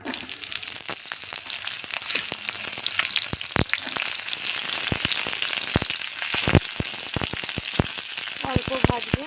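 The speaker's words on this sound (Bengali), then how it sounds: "এবার বটবটিগুলো ভেজে নেব" Bottboti beans frying in hot oil in a karahi, a steady close sizzle punctuated by many sharp pops and crackles.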